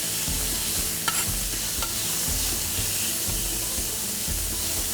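A prime ribeye steak sizzles steadily on a Lone Star Grillz skillet, a continuous hiss broken by a couple of sharp clicks and scraping from a spatula as the meat is turned.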